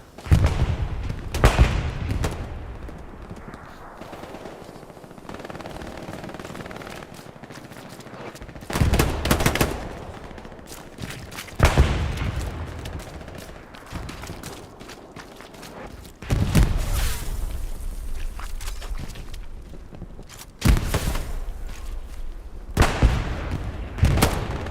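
Rapid bursts of gunfire and explosions from Hell Let Loose, American and German teams fighting through trenches, with loud volleys recurring in clusters over a steady rumbling battlefield background.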